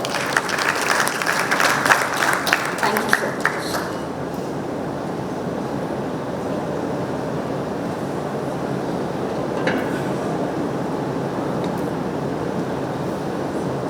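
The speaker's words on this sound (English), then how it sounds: "A round of applause for all the people there" A conference audience at a panel on innovative financial solutions applauds in a lively burst of many hands for about four seconds, then the clapping cuts off, leaving a steady low room rumble.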